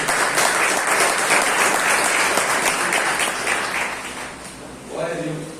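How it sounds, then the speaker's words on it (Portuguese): A church congregation bursts into loud, sustained applause that fills the room, then tapers off toward the end as a voice begins speaking over the fading clapping. "Aplauda o Senhor"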